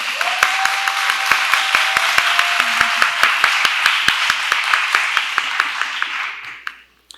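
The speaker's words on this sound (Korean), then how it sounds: "여러분 큰 박수로 환영 부탁드립니다." An audience at the Seoul International Writers' Festival applauds a poet with loud, sustained clapping and a regular beat running through it, then fades out near the end.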